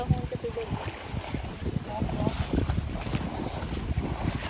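Gusty wind buffets the microphone outdoors on water during a shrimp-netting trip, a loud, rough rumble that surges and fades continuously, with water splashing faintly beneath.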